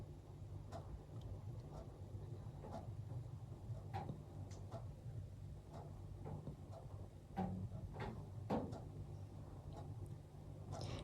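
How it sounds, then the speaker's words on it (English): A clock ticks in a quiet room beside a fireplace, giving faint, sparse clicks and soft crackles over a low steady hum, with no speech. "You can hear my fireplace and the clicking of the clock."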